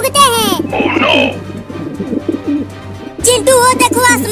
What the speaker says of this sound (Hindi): आसमान में ढेर सारे कबूतर उड़ रहे हैं